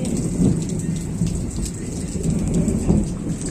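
Steady rain falls outside a house with trees nearby, a dense continuous patter on surfaces with a faint low rumble beneath.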